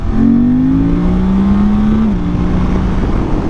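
A Suzuki V-Strom 800 motorcycle with an airbox mod and ECU remap revs as the throttle opens, a loud, close engine tone rising and holding before dipping slightly, heard alone.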